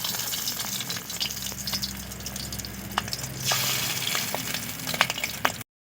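Fish roe fritters frying in hot oil make a steady bubbling sizzle with occasional sharp pops and crackles, close and moderately loud.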